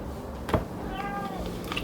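A single short cat meow rises in a kitchen where frog legs are being prepared, fairly close over a low steady room hum, with faint harmonic tones lingering afterward.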